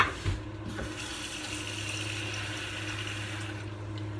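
Water pours steadily from a tap, a constant hissing splash that runs on for several seconds after a brief clatter at the start.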